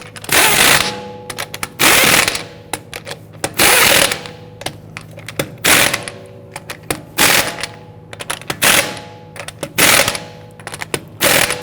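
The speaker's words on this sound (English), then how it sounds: "Get those lug nuts started. And once we have them all started, we'll go ahead and snug them down." A ratchet snugging down lug nuts on a rear wheel of a 2010–2019 Ford Taurus, loud close bursts of rapid metallic clicking in repeated strokes with short pauses between, and no voices.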